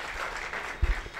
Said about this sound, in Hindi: एक मरतबा ज़बरदस्त तालियों में उन तमाम की हिम्मत अफजाई कीजिए